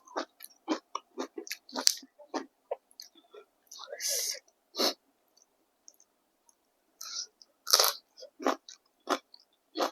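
Crunchy mouthfuls of spicy papaya salad with rice noodles, crispy pork cracklings and fresh okra produce sharp, close bites and chewing crunches in irregular bursts, with whispered speech between them.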